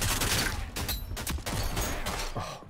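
Video game gunfire rattles in dense, loud bursts of rapid shots that run almost without a break, with a brief lull near the end, close and with no talking over it.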